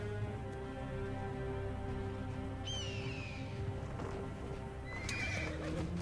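Horse whinnies and steady hoofbeats from the Assassin's Creed Origins game, set in ancient Egypt, with a continuous clip-clop under a droning ambient bed and a couple of high neighs cutting through near the middle and end.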